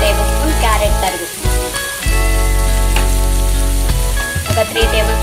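Chopped onion, carrot and cabbage lightly fry in a pan for a veg momo filling, giving a close, steady sizzle that runs throughout with a faint tonal hum behind it.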